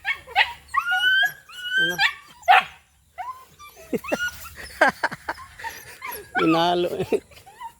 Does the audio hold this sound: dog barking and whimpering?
yes